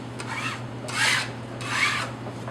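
Vinyl backing being rubbed onto the outside of an aquarium tank to work out a wrinkle, two close, rasping hand strokes with a fainter one before them.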